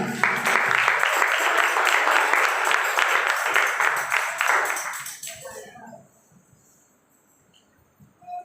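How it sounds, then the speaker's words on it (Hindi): At a church seminar an audience bursts into loud, dense applause that holds strongly for about five seconds, then tapers off into near quiet with faint room sounds before a voice returns. "जोरदार तालियां"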